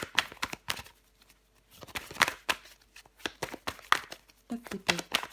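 Tarot cards riffle and snap as a deck is shuffled and dealt onto a surface, a run of quick papery clicks and flicks close by, with a brief soft voice near the end.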